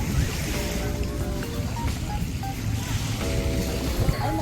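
Sea waves washing onto a beach, a steady broadband surf wash with wind, continuous and fairly loud, with no talk over it.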